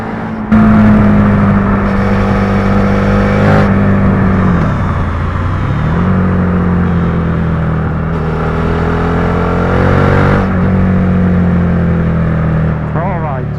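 A Suzuki SV650 motorcycle engine revs up and down under riding, pitch rising through each gear and dropping sharply at the shifts, loud and close for the whole stretch.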